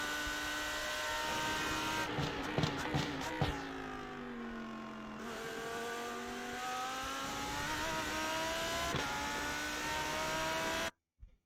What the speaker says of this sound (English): I'll rewind it and play it at full speed so you can hear the gears